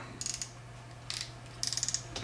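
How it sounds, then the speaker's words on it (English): The drag clicker on a Daiwa Alphas BFS baitcasting reel gives three short bursts of rapid, light clicking, quiet and close, with brief pauses between the bursts. "Okay, I think everything clicks on this as well. So here's the drag clicker."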